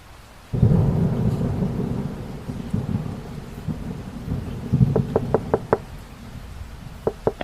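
Deep rolling thunder rumbles over steady rain, then a quick series of sharp knocks on a door sounds close by, followed by two more.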